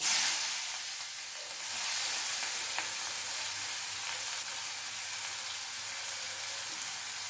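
Onion and turmeric, with asafoetida, frying in a pan for okra bhaji, giving a steady broad sizzle that swells slightly after the first second and stays even, fairly quiet and close, with no talking.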